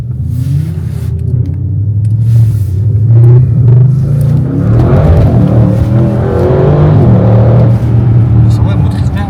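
An Audi RS6 engine roars and revs loudly in a deep rumble that climbs and falls in pitch, sustained throughout, while people talk over it.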